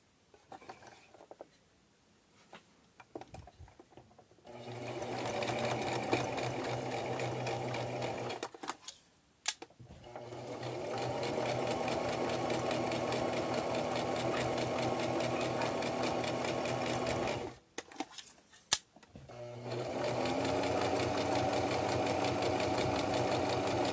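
A sewing machine runs in steady bursts while stitching a quarter-inch seam on a microwavable heating pad, with two long continuous runs separated by short pauses and small clicks. No one speaks.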